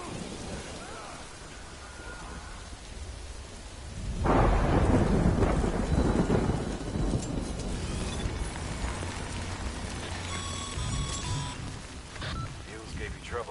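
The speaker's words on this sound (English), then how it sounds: "Good thing it's raining" Rain and thunder in the video game Death Stranding: a faint hiss of rain gives way to a loud rolling thunderclap near the middle, then steady rainfall continues with a few lighter metallic sounds, and a voice speaks partway through.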